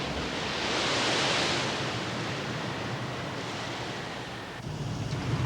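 Huge sea waves surge and crash off Great Britain while strong wind roars over the microphone in a dense, loud wash of noise that swells and eases, with a heavier gust near the end.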